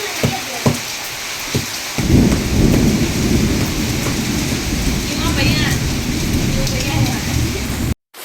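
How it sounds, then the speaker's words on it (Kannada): Heavy rain pours down in a village, a loud dense roar after a few sharp knocks at the start, with deep thunder rumbling beneath the downpour before it cuts off abruptly. "ನಮ್ಮ ಊರಾಗ ಮಳೆ ಬರಾನತ್ ನೋಡ್ರಿ. ಬಿಸಿಲು ಅಂದ್ರೆ ಬಿಸಿಲಾಗ ಮಳೆ ಜೋರ್ದಾರ್ ಬರಾನೈತಿ."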